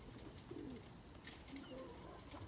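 Pigeons cooing around a coop, soft low coos recurring a few times over steady outdoor background noise, fairly faint and without talk.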